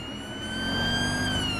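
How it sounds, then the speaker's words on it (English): A British police car's siren in the video game GTA V during an emergency blue-light run wails loudly and steadily, its rising and falling tones sustained throughout with no talking. "We're then going to do the siren again."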